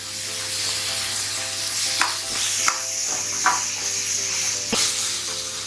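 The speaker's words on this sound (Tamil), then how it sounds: "இப்போ தக்காளியும் நல்லா வதங்கட்டும்." Onions and tomatoes sizzle steadily in a pan, with a continuous close frying hiss and occasional scrapes and clinks of a spoon stirring, heard without talk.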